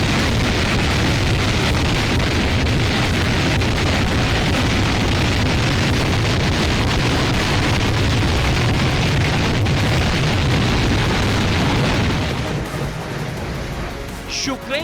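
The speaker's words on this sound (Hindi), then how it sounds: "तब यूक्रेन की राजधानी कीव के आसमान और जमीन पर रूस की मिसाइलें" Russian missile strikes on Kyiv, Ukraine's capital, on New Year's Eve: a loud, sustained roar of explosions and rumbling booms that holds steady for about twelve seconds and then fades at the end, with no speech heard.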